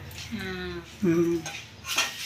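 Curry leaves frying and being stirred in a pan for curry leaf spice powder, with clinking utensil scrapes against the pan over a soft sizzle, close and moderately loud across a couple of seconds.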